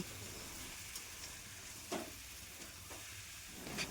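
Eggplant and fried prawns sizzle softly in a pan, with a few sharp stirring scrapes and clinks breaking through the quiet, steady frying.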